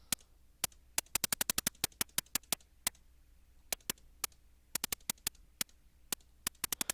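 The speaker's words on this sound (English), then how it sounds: "So now it should sound something like this, the lead snap on its own." A synth snap layer picks out the lead melody as a string of crisp, dry clicks, tight bursts of quick hits broken by short gaps, played alone and fairly quiet with no other instruments.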